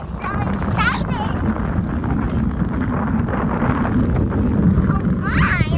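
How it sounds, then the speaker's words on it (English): Heavy wind blasts the microphone outside a school on a windy day, a constant, loud, close rumble running throughout, with a voice speaking briefly at the start and end. "Oh my, it's so windy."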